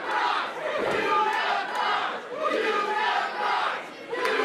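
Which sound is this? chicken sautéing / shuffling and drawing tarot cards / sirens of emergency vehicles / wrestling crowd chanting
wrestling crowd chanting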